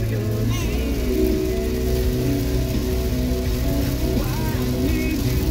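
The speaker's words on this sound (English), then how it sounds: "Wow, that's a lot of rain." Heavy rain drums steadily on a car's roof and windshield during a drive back from a camping trip, a dense constant wash with engine rumble underneath and faint voices.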